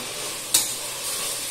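Four finely chopped tomatoes fry and get stirred in a pan for vegetable biryani, giving a steady close sizzling hiss with two brief louder scraping bursts.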